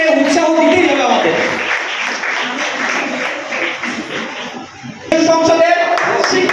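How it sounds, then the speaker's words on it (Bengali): A school function audience claps to encourage children, the dense applause sustained and fairly loud with talk over it, dipping briefly before swelling again near the end. "আপনারা আবার হাততালি দেবেন, বাচ্চাগুলোকে উৎসাহ দিতেই হবে আমাদের।"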